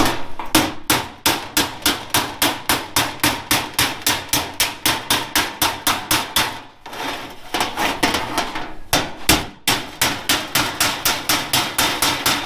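Steel hammer strikes a car body panel backed by a dolly, in a fast, steady run of sharp, ringing blows. The blows pause briefly twice, then resume close up and loud with no talk.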